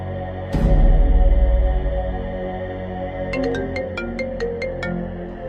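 A phone call's ringing tone sounds loud and close, a sustained electronic melody with a brief noisy burst near the start and a run of sharp, evenly spaced chiming pips toward the end.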